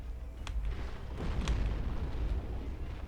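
A close explosion in the Dark Souls video game booms as a deep, rumbling blast, with sharp bursts near the start and a sustained low roar, loud and without talk.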